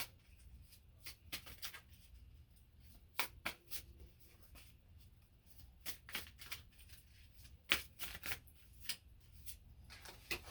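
Tarot cards being shuffled and drawn, a run of soft, quick riffles, flicks and slaps repeating in bursts, close and fairly quiet over a low background hum.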